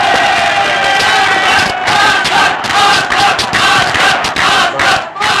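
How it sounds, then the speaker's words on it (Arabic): A stadium crowd roars and chants in support of the yellow team, a dense, loud wall of voices with surging shouts and whoops that rise and fall throughout. "زي ما احنا شايفين الجمهور بيحيي الفريق الأصفر اللي بيتقدمه زيزو"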